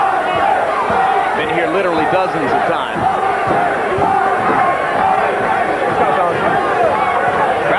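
A boxing crowd at the 1997 Pernell Whitaker vs Andrey Pestryaev fight cheers as the 12th round begins, a steady dense roar with scattered shouts under a commentator talking.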